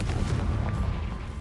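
Confringo fire-blast spell going off in Hogwarts Legacy, a dense booming burst with low rumble that carries for over a second, loud and without talk.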